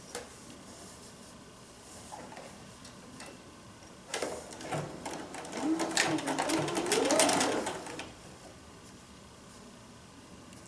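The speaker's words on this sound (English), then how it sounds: "And then sew your next seam." A sewing machine stitches a short seam on a quilted table runner, a faint whir at first and then a louder burst of stitching for a few seconds, close by, with no talk.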